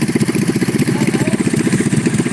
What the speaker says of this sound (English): This is an actual go-kart racing event